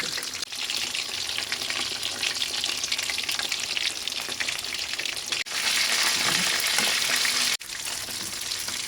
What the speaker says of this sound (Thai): วางปลาลงไปทอดเลย